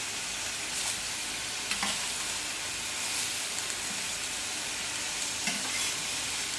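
Potato galettes fry in hot oil in a pan, giving a steady, dense sizzle that continues unbroken, with occasional faint scrapes and no voices.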